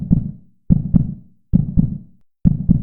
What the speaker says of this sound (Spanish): Cuando corremos mucho, nuestro corazón late fuerte y lo podemos escuchar.